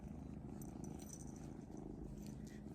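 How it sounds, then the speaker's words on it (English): A cat purrs steadily and softly, a low continuous rhythmic rumble close by with no other sounds. "she's just purring the whole time"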